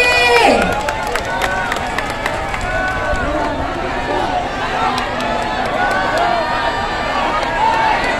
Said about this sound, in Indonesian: Luar biasa, tepuk tangan dong sekali lagi.